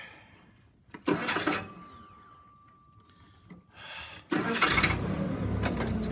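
A vehicle engine cranks and catches twice on a work lot, short bursts of starter noise and firing, the second start louder and running on, close to the recorder.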